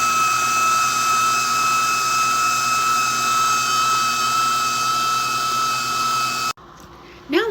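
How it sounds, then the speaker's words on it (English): A KitchenAid juicer attachment whirs steadily while juicing oranges, a loud continuous motor hum that cuts off abruptly near the end, followed by a brief clunk. "I'm just going to start off with my KitchenAid attachment, my juicer, and juice my oranges."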